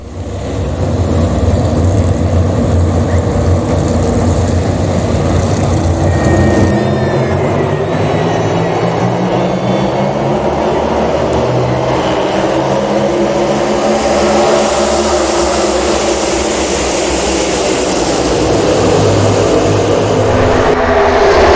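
Stock cars roaring around the track at a NASCAR race in Atlanta, a loud continuous wall of engine noise with rising and falling pitch sweeps as cars pass, steady crowd-level din throughout.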